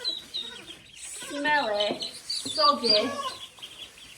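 Young ducklings in a farm setting, moving to a new home, chirp and cluck repeatedly in busy overlapping bursts close by, while a person talks over them.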